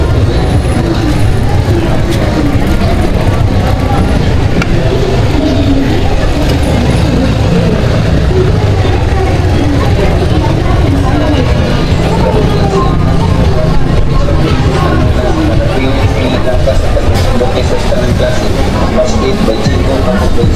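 Dense, continuous traffic on a Cebu city street at night, with motorcycles and other vehicles passing. Engines rumble loud and close, blending into a steady roar.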